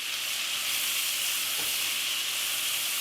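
Cabbage, bacon and onion fry in a pan with a loud, steady hiss of sizzling fat, broken midway by one brief scrape of a stirring utensil.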